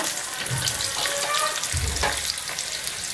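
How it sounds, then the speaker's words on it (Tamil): Chopped onion frying in hot sesame oil in a clay pot for fish curry, a loud, close crackling sizzle with a few soft stirring knocks. "வெங்காயம் நல்லா ஃப்ரை ஆகட்டும்."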